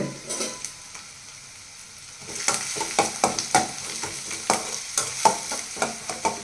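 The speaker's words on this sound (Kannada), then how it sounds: "ಒಂದೇ ಒಂದು ಚಿಕ್ಕ ಚಕ್ಕೆ ಮತ್ತು ಒಂದೆರಡು ಬಾತೆಲೆ ಹಾಕೊತಾ ಇದ್ದೀನಿ" A small cinnamon stick and bay leaves fry in hot oil. A quieter sizzle becomes louder, with a rapid, rhythmic series of stirring clacks and spattering pops close by.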